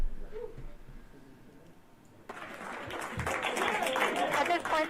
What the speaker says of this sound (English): Why is everybody cheering?